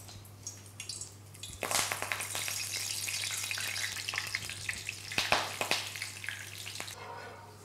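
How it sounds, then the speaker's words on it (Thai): Garlic chives fry in hot oil in a Thai home kitchen, a close, steady crackling sizzle that swells sharply after a quieter start, with a few louder spitting bursts and a faint low hum underneath. "ผมทอดขิงช่ายไว้เล็กน้อยนะครับเพื่อเอาไว้ใช้สำหรับแต่งจานครับ"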